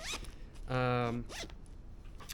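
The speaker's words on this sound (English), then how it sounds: "Zip up my jacket." A jacket zipper pulled up once outdoors on a beach walk in Brazil, a close, quick rasping zip lasting about half a second amid light talk and background noise.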